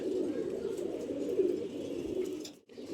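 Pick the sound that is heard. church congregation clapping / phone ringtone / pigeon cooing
pigeon cooing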